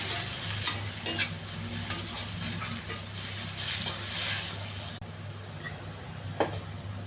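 Steamed ivy gourd with turmeric, chilli and salt is stirred in a hot pan, with a spoon scraping in repeated strokes over a steady sizzle and a few sharp clinks, close by and without talk.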